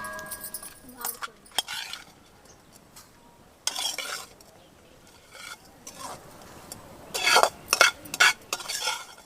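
A spoon stirs roasted semolina with dried coconut powder in a pan, giving intermittent scraping and clinking strokes that turn busier and louder toward the end, with nearby kitchen handling noise.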